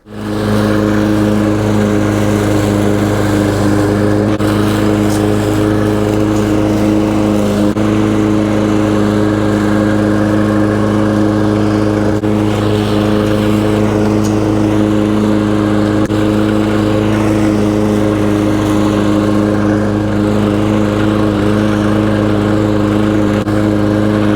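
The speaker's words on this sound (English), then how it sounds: "I prefer mowing spots like this with a push mower" Push mower cutting grass in a roadside ditch, its small engine droning loud and steady from start to finish with slight shifts in pitch as it works the slope, and no voices over it.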